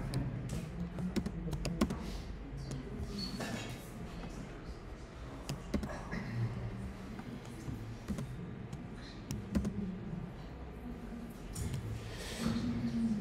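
Someone types on a computer keyboard in irregular bursts of quiet key taps, with pauses between them and no one speaking.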